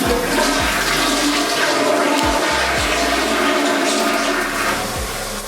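A hotel-room toilet flushes loudly and steadily for several seconds, a continuous rushing of water that eases slightly toward the end, with no one speaking.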